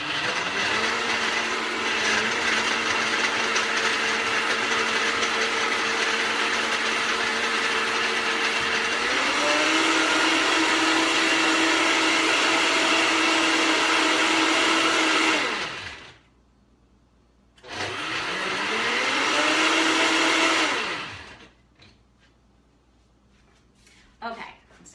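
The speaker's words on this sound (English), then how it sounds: "So now we're gonna put this on the blender." A countertop blender whirs loudly for about fifteen seconds while blending a salted caramel mocha frappuccino, then stops, restarts for a few more seconds and cuts off, leaving near silence.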